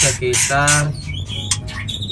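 High, scratchy squawks and chirps from seven-day-old songbird chicks in a breeding cage, calling in quick repeated bursts close by, with a low background hum.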